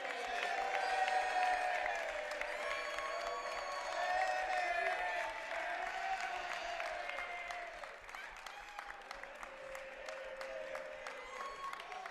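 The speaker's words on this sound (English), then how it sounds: "Let's give a round of applause to Jackenson Edme." A crowd at a men's college basketball game applauds steadily, its scattered claps and a low murmur of voices lasting throughout and easing slightly toward the end.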